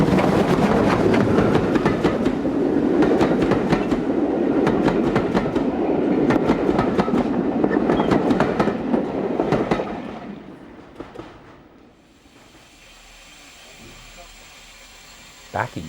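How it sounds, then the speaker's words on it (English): A Great Western-descended steam locomotive built in the 1950s runs past with loud, dense rumble and rapid rhythmic clattering and chuffs, then fades to a quieter distant hum with a final clank. "This engine, built in the 50s, is a descendant of a Great Western idea that was to dominate 20th century steam."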